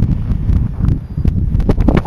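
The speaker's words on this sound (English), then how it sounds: "It's really windy here." Strong wind buffets the microphone on a trail at Mount St Helens, gusty low roaring with irregular bursts and rustling, close and loud, with no voice present.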